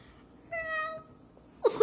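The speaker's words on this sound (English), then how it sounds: "That was our cat." A big fluffy cat gives a single drawn-out meow, close and clear, followed by a brief moment of quiet before a person starts talking.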